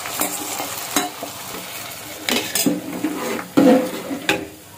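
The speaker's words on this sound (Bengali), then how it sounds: "এখন একটা বাগার দিব, পেঁয়াজ রসুন শুকনো মরিচ তেজপাতা সবকিছু ভাজা হয়ে গিয়েছে" Fried onion, garlic, dried chili and bay leaf tempering poured into a pot of haleem, sizzling bursts mixed with spoon-on-pot clinks and stirring, close and moderately loud, no voices.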